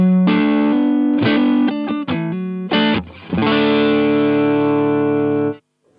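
Electric guitar played through an amp set just at the edge of breakup with the graphic EQ pedal switched off, loud sustained chords and short choppy stabs with a slightly gritty, harmonically rich tone, ending in silence.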